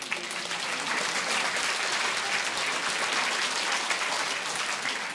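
A television studio audience in the Czech show Sejdeme se na Cibulce claps steadily, a dense, even wash of applause lasting throughout with no pause.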